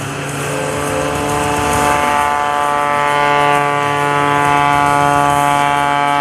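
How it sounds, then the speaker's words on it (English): A 370-horsepower aerobatic propeller plane engine drones loudly and steadily at an airshow, its tone swelling and shifting slightly as the aircraft maneuvers. "He's using all 370 horsepower from that Sky Dynamics engine."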